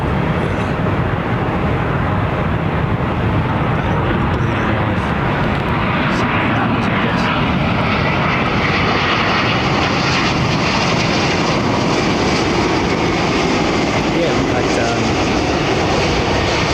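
Jet engines of a C-5 Galaxy military transport aircraft at London Heathrow Airport, a steady loud roar holding throughout with wind-like broadband noise.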